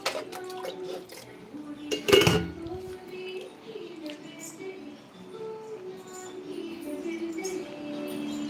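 A small metal pot clinks sharply once, then water trickles and splashes into it in a soft, uneven stream, with someone speaking nearby over the filling.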